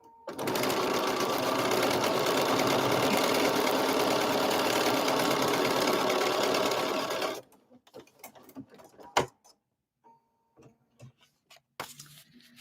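A sewing machine runs steadily and loudly for about seven seconds while stitching a seam. It then stops, leaving scattered soft handling clicks and rustles.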